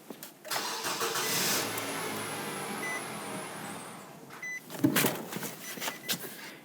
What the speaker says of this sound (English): the car started and then it died out on me after approximately 3 to 5 seconds